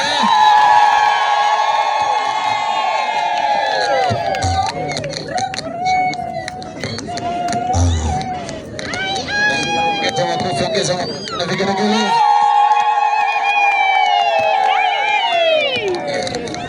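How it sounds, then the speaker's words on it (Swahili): A crowd welcoming Bishop Lyimo at the Shinyanga border lets out long, high, wavering ululation trills over clapping and loud excited voices, swelling and easing in waves. "Hebu ongeza makofi na vigelegele."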